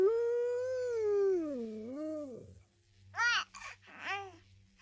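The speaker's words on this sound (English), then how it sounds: "Happy baby noises." Cooing, babbling baby vocalizations from the video game Bokura: Planet, a long rising and falling tone followed by two short bright bursts of happy squeals, clear and close with no talk.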